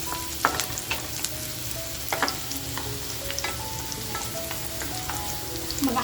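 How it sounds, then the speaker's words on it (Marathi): Half an onion and cumin seeds frying in hot ghee for mutton kharda, a steady sizzle with scattered crackles and pops and occasional stirring clinks, fairly quiet and with no voices. "तो अर्धा कांदा टाकते"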